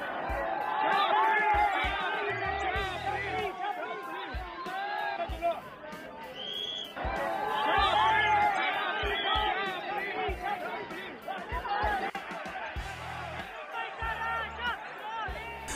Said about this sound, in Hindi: इसकी तस्दीक करती हूटिंग की ये आवाजें हैं